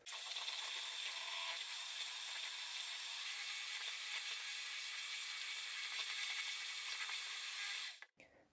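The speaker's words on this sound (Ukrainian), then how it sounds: "І збиваю це все міксером." An electric mixer whirs steadily and loudly for about eight seconds while beating Easter cake (paska) batter in a bowl, a dense even buzz that cuts off abruptly at the end, with no voices.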